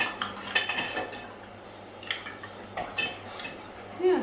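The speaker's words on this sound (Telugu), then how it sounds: "సో 1/2 టేబుల్ స్పూన్ కార్న్ఫ్లోర్ వేసుకొని లంప్స్ లేకుండా బాగా మిక్స్ చేసేసుకోవాలి" Metal spoon clinking against a bowl while cornflour is stirred into milk, several irregular scrapes and light taps spread across a few seconds in a quiet kitchen.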